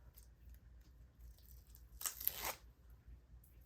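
Adhesive backing is peeled off a scrapbooking embellishment, a brief, quiet tearing rasp lasting about half a second against a faint, hushed background.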